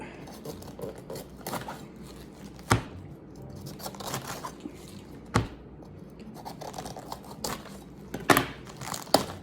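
A knife cuts through a cabbage, with crunchy crackling slices and several sharp snaps at irregular intervals, close by and moderately loud.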